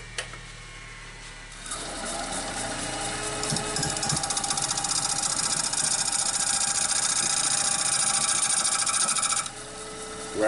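Woodturning tool touched up on a spinning CBN grinding wheel in a workshop, a steady high hiss and whine that starts after a quiet moment and runs for several seconds before cutting off, close and fairly loud.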